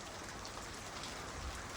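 Steady rain patters down onto a rooftop, a faint, even hiss of drops that holds constant through the short stretch with no voices.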